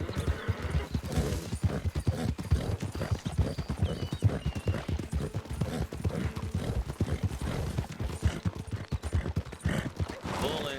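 Horse hooves in Red Dead Redemption 2 clip-clop in a steady, rapid rhythm throughout, close and clear, with an occasional whinny and faint distant gunfire mixed in.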